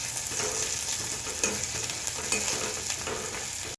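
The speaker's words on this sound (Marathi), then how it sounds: "कांदा लसूण परतून घेऊ।" Onion, garlic and curry leaves sauté in a hot pan for a green cluster bean curry, giving a steady close sizzle with occasional stirring scrapes and no talk.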